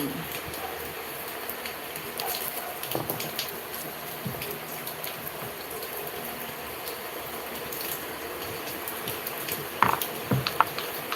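Steady rain falls on a rainy afternoon as a continuous soft hiss, with occasional faint drips and taps.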